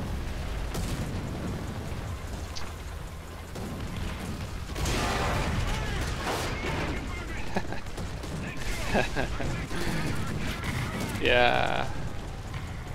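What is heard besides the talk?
artillery fire hitting tank in World of Tanks video game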